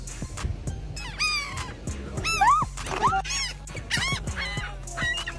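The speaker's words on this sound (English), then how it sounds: "you need to look out for seagulls." Seagulls at the beach give a run of harsh, squawking calls, several overlapping cries in quick bursts, fairly close over quiet background.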